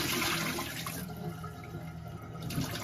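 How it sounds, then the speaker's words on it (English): Water pours and splashes out of a bowl of potatoes into a sink, a rushing gush that gradually thins to trickles and drips. "Let's dip the bowl and get rid of all this water."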